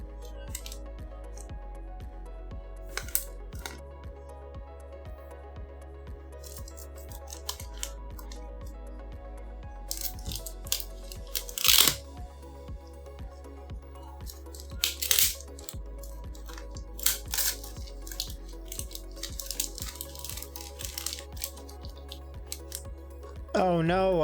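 Plastic packaging on an XP-Pen Artist Pro 16 drawing tablet is unwrapped with scattered crinkles, rustles and sharp crackles close by, over a low steady hum, with a louder tear near the middle.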